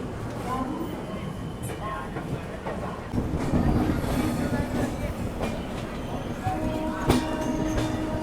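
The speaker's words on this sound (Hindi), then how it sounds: "बिल्कुल निर्धारित समय 3:40 पर हमारी ट्रेन निकल चुकी है न्यू दिल्ली रेलवे स्टेशन के प्लेटफॉर्म नंबर 10 से।" Kanpur Shatabdi Express passenger train rolling out of New Delhi railway station, a steady rumble of wheels on track with occasional clacks and squeaks, heard from aboard at a constant level with faint voices in the background.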